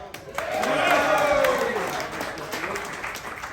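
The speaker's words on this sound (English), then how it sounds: "Round of applause for that." A live crowd at a Friday football radio show event in Plymouth, Minnesota claps in a short burst that swells quickly and then thins, with voices mixed in underneath.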